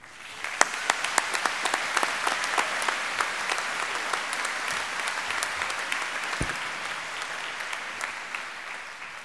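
Loud, sustained applause from a commencement audience at a college of engineering convocation welcoming a guest speaker, dense steady clapping filling the hall for several seconds.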